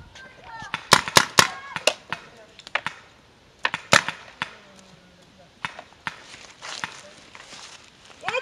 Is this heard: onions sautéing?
no